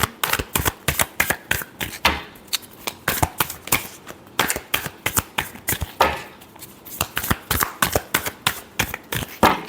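Tarot cards are shuffled in quick repeated bursts of riffling and slapping, close and crisp, with short pauses between rounds.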